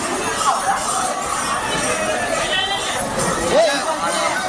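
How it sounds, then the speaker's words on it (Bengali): A dense crowd fills Howrah railway station in Kolkata with steady babble and chatter, overlapping voices blending into a loud continuous hubbub. "ভালোই লোকের ভিড়, ভালোই লোকের ক্যাজরা"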